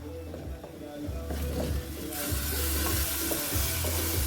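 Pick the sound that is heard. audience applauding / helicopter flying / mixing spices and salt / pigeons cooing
mixing spices and salt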